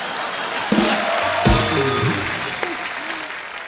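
Studio audience claps on an Indian comedy show, moderate applause with a few louder accents and bright effect-like tones layered over it.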